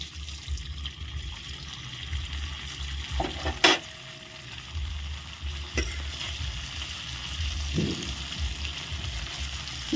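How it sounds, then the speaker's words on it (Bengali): Homemade chhena (paneer) pieces fry in hot oil with a continuous close sizzle and bubbling, broken by a few brief utensil clinks as the pieces are lifted out. No one speaks. "পরেরগুলো ভাজা হয়ে গেছে এখন তুলে নিচ্ছি পরেরগুলো"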